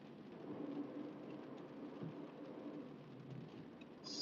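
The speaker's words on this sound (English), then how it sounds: "the rain's like 10 times heavier than when we came by before" Heavy rain pours down on a road during a nor'easter, a steady dense broadband hiss with no pauses, heard from inside a vehicle with a faint low rumble beneath and no voices.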